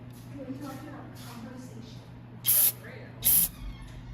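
Carburetor choke cleaner is sprayed from an aerosol can while working on an Arctic Cat Panther, two short, loud hissing bursts following a stretch of talking.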